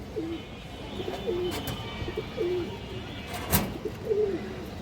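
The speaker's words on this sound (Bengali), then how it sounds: "একটা পুরান জাতের গেন্দা কবুতর আছে" An old Genda-breed domestic pigeon, a light-coloured hen, coos in a few low repeated phrases, close by, with a brief louder rustle midway.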